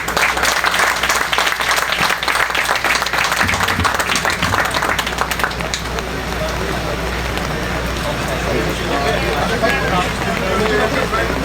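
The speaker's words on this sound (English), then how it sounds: "Give a big hand of applause to all of them" Audience applause at a community ceremony honoring 9/11 and Covid-19 heroes, a dense wash of clapping with crowd babble and voices mixed in that carries on loudly throughout.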